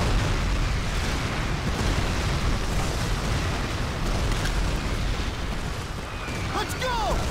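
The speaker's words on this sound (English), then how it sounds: "Rocket fire!" Rocket fire and explosions in a Call of Duty Modern Warfare mission, a dense, loud roar of blasts and rumbling gunfire that continues without pause, with shouted voices mixed in.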